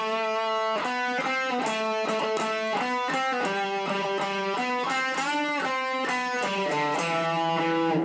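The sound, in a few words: electric guitar playing first phrase of a solo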